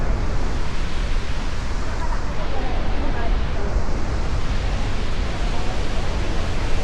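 Constant roar of Horseshoe Falls at Niagara, a dense, steady wall of rushing water that stays loud and unbroken throughout, with no pauses or distinct events.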